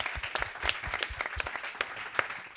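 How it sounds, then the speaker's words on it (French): Audience applause closing a participatory theatre scene about the future of the ocean, a dense steady patter of many hands clapping at moderate level with no talk. "Bravo, on applaudit."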